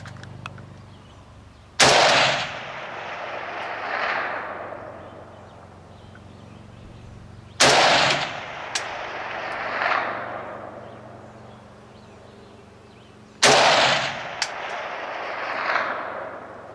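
Three loud, single shots from an Arsenal AK rifle firing 124 grain bullets at a target 500 yards away outdoors, about six seconds apart, each with a sharp crack and a long rolling echo that fades out.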